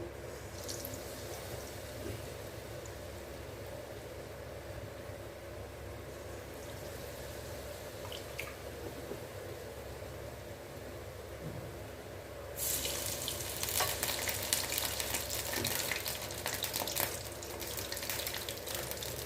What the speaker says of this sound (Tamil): இப்போ எண்ணெய் காய வச்சுருக்கேன் நம்ம உருட்டி உருட்டி போட்டுடலாம்